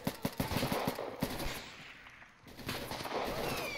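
Gunfire in the video game Insurgency: rapid automatic bursts of shots in quick rhythm, fairly faint and somewhat distant, with a short lull before more firing and a rumbling background.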